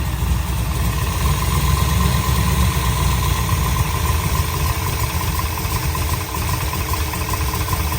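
A 454 Chevy V8 in a Cobra idles at about 900 RPM during tuning, a steady, loud, low rumble with constant vibration throughout and no voices.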